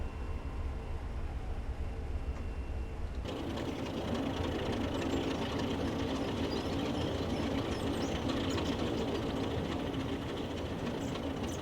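A diesel locomotive on the Swanage line in Train Simulator Classic pulls away after its brake is released, a steady loud rumbling engine drone with rhythmic rail clatter that swells abruptly after a quieter opening, with no talking.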